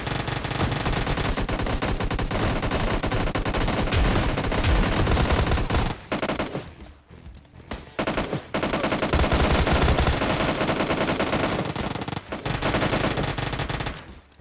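An Uzi and a two-round shotgun fire in a video game amid near-continuous rapid bursts of loud, dense gunfire, broken by two short lulls before the shooting resumes.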